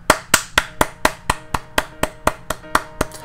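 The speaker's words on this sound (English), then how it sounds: "You get hats off and a quick round of applause." A single person claps hands about fourteen times in an even, quick rhythm, each clap sharp and close, with no talking over it.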